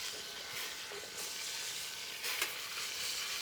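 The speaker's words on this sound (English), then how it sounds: "Lamb's got a nice sear to it." Lamb sears in a pan with a fairly soft, even sizzle and hiss, broken briefly by a few bursts of spattering.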